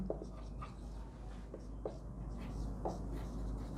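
Pen scratching out a math solution on paper, a series of short soft strokes at a steady pace, close by over a low constant hum with no talking.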